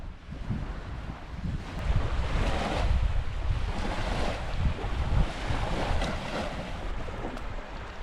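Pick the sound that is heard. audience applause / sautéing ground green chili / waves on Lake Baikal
waves on Lake Baikal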